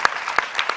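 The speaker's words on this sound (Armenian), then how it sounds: "այդ առիթով երևի պետք է երկարատև ու բուրըն գոգային ծափահարությունների արժանացնենք" Applause from a gala audience for performers Sona and Goga, a short burst of scattered, sharp claps in a steady rhythm at moderate loudness.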